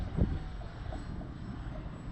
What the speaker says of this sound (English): this is a big scale transport plane, so not really designed to do aerobatics.